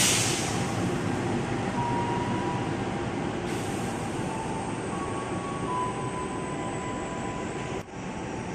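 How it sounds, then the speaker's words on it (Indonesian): CC206 diesel locomotive rolling along track 6 at Jatinegara station, a steady loud engine rumble with a high whine, close by throughout, with no talk. "di jalur 6 melintas lokomotif CC206 yang bakal balik ke Dipo, Cipinang"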